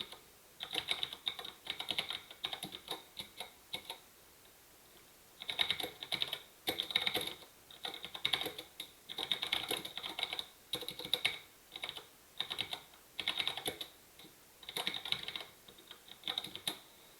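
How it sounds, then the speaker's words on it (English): Typing on a computer keyboard comes in quick bursts of clicking keystrokes with short pauses between them, close and steady, with no talk over it. "I think I just have to type out the instruction."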